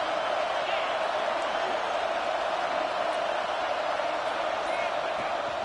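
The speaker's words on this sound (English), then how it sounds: "This crowd is trying to inspire this defense to make a big red zone stop." Steady, loud stadium crowd roar from a college football video game, NCAA 26, during a red zone defensive stand, a dense continuous wash of noise throughout.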